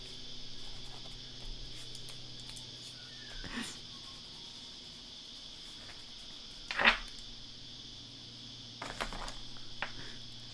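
Cicadas drone as a steady high buzz that holds through the whole stretch, with a few brief rustles and one sharp faint chirp rising over it near the middle.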